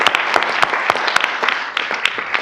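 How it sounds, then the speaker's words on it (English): Round of applause at a county board meeting, a small room of people clapping with distinct, uneven individual claps over a steady patter, fairly close and moderately loud. "Let's give a round of applause for Scott."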